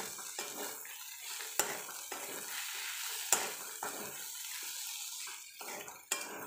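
A spoon stirs tomato chutney with added salt in a hot pan, giving repeated scraping strokes over a soft sizzle, with a few sharp taps of metal against the pan.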